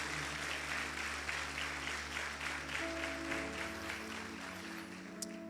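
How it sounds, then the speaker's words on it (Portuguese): A church congregation applauds, giving a continuous, moderately loud clapping texture that holds steadily throughout, with some sustained tones sounding beneath it partway through. "Você pode aplaudir o Senhor, o faça com uma alegria."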